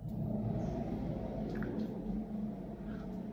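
A resin 3D printer's inline ventilation fan running at full power, a steady broadband whoosh and low hum that holds constant throughout without any voices.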